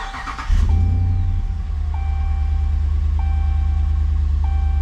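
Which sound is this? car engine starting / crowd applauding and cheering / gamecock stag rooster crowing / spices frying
car engine starting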